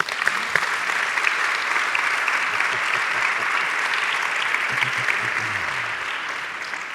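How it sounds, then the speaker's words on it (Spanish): A theatre audience applauds steadily, sustained clapping from a crowd that holds at an even level throughout. "Manuela y Marina, un aplauso para ellas"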